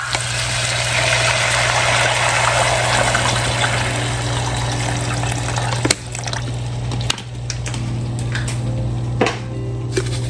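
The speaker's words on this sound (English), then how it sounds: "now we're gonna go ahead and add water to this" Steady gushing water pours into a cooking pot of oxtails over a constant low hum, continuous and fairly loud, followed by a few clunks.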